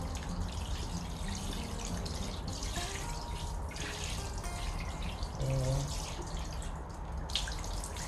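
Water is poured generously over the soil and leaves of a freshly repotted snake plant, a soft, close splashing trickle that swells briefly near the end.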